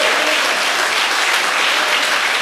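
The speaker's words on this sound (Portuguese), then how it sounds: "Vamos aplaudi-lo?" A church congregation claps for Jesus in a loud, steady, dense wave of applause that fills the hall evenly from start to finish.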